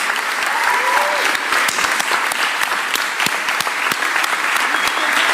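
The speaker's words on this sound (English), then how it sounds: "please make sure you give her a big round of applause" A crowd claps for the mayor at a Philadelphia event marking the end of a District Council 33 strike, steady dense applause lasting several seconds, fairly close and unbroken.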